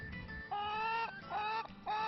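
Chickens kept on an off-grid homestead, with a few close, repeated drawn-out clucking calls in short bursts over a quiet background.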